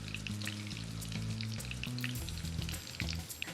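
Cornbread batter with butter hits a smoking-hot cast iron skillet and sizzles close up in a bright, crackling hiss, steady throughout with a few sharper pops, and no one speaking.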